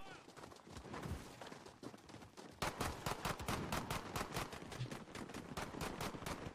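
Rapid gunfire fills a Call of Duty: Modern Warfare match, with dense bursts of automatic shots that get louder partway through and keep crackling steadily as players talk over it.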